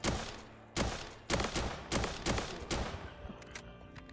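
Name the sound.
weapon gunfire in the video game Roblox Reign Fall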